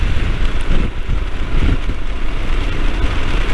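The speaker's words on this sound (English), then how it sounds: "but it's a bit windy." Wind blusters loudly across the microphone during a stop on an evening motorcycle ride along Yorkshire lanes, a dense continuous roar with no voices.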